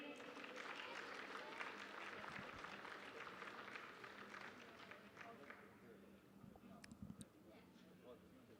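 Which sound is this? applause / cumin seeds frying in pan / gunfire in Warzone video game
applause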